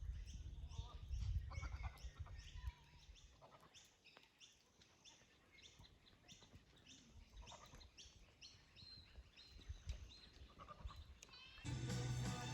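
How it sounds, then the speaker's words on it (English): A large herd of goats in Kinchega National Park in outback Australia bleats faintly in the distance, with scattered overlapping calls and bird chirps over a quiet open-air background. "171 goats."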